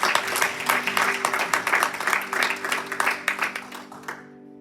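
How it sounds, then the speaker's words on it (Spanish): Close, dense applause from a church congregation rises and falls for about four seconds, then cuts off into a low sustained tone. "Dele un aplauso al Señor"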